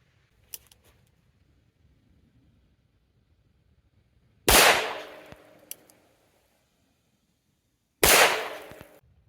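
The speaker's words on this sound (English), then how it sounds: "I'm going to shoot 2 shells of the Winchester Defender 410 and see what results we get." A Bond Arms Rough & Rowdy 45/410 pistol fires two Winchester Defender 410 shells at close range outdoors, two loud sharp blasts a few seconds apart, each with a short decaying tail and near silence between.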